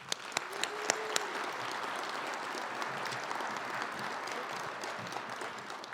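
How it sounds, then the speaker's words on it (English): Sustained applause fills a hall at a trade association town hall and expo opening, a steady crowd wash with a few sharper nearby claps at the start, fairly distant and even. "So let's give them all a round of applause."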